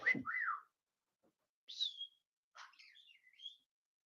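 A few bright whistled notes from a parrot, including a rising-then-falling wolf-whistle pattern, separated by short pauses of silence.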